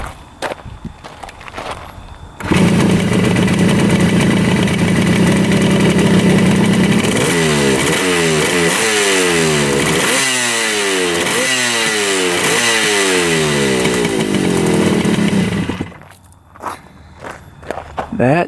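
A rare two-stroke motorcycle that sat in a barn for 20 years is started and run, its loud, raspy engine revving up and down in repeated rising sweeps, then dying away, with talk around it.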